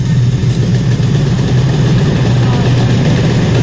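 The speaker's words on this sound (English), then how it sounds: "It's a bit loud down here, as you can imagine, down in this assembly area, particularly with all the supercar engines that are going." British Supercar Championship race cars running in the assembly area at Cadwell Park: a loud, dense low engine rumble and idle burble from several nearby engines, constant throughout the short stretch.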